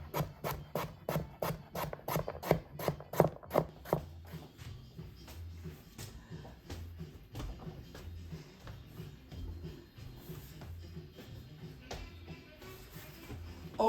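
Rapid, regular knife chops cutting carrots small on a cutting board for the first few seconds, then softer scraping and shuffling sounds at close range.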